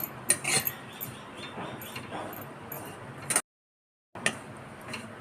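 Dry coconut stirred in a pan while roasting over a low gas flame: light scraping and clinks of a utensil against the pan, soft and close, broken by a brief silent gap, with no talking.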